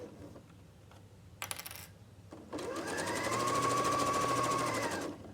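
A sewing machine runs a fast, steady stitching burst along the top edge of a boxed pencil case, attaching the zip, preceded by brief handling clicks and a short whir, then a loud continuous run near the mic.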